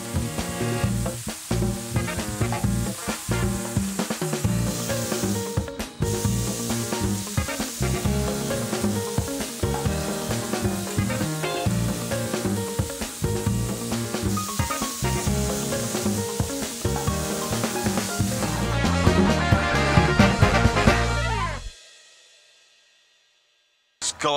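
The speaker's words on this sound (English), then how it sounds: "Sizzle. Hear that searing. Nice and hot." A Texan beef fillet sears on a hot barbecue grill, giving a loud, steady sizzle and hiss that runs close and continuous for about twenty seconds before cutting off abruptly, with some faint speech at times.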